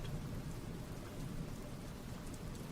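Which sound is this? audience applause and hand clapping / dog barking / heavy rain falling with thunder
heavy rain falling with thunder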